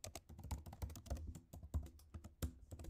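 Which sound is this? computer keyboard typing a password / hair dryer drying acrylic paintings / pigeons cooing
computer keyboard typing a password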